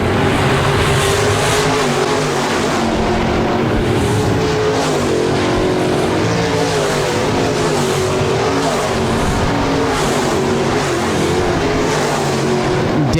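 Modified race cars roar around the dirt track at Park Jefferson Speedway, a loud, continuous wall of engine noise with lapping traffic and rising and falling passes.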